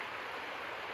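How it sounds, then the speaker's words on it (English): Flowing water of Sharps Creek, a small creek, giving a steady broadband rush that stays even and close for a short moment, with no voices. "So I decided to come down to a little creek that I used to fish at when I was a kid, Sharps Creek"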